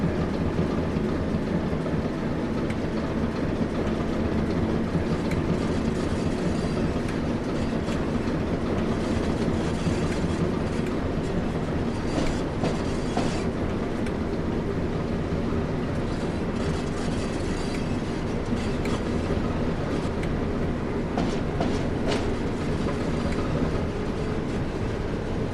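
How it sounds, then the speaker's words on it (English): A steelworks shunter locomotive on the Tees Valley Line in Train Sim World rumbles steadily on the rails, a constant low engine drone with faint rail clatter, continuous and unbroken with no talk. "Right, set the reverser to forward, take the brake off. Let's put some speed on it."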